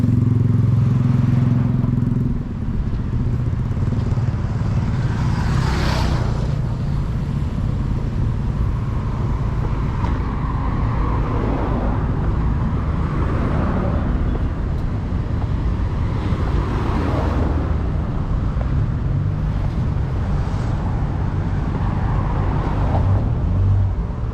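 Steady roar of congested street traffic in Johor, Malaysia, with car and motorcycle engines idling and creeping past nearby, a continuous loud rumble that stays level throughout.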